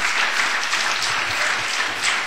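A dense round of applause from an audience honoring panelists fills the whole moment, steady and close with no pause.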